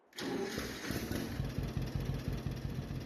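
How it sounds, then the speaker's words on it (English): A John Deere Model A tractor engine in Farming Simulator 22 fires up and settles into a steady, rhythmic chugging idle, loud and close, running alone without talk. "this tractor should be good enough to run now"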